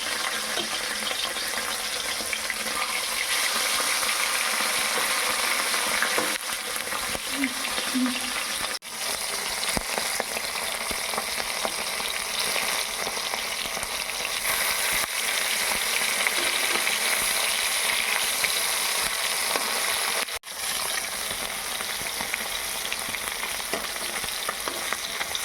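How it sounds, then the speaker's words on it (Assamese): Fish frying in a pan in a home kitchen, a loud steady sizzle and crackle throughout with occasional stirring, close and continuous, without talk. "মায়ে মাছখিনি ফ্ৰাই কৰিছে।"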